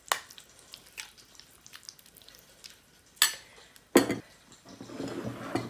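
Capsicum, carrots, salt and black pepper being mixed into mayonnaise for a chicken sandwich, soft wet scraping of a utensil in a bowl with a couple of sharper knocks, close and without talk.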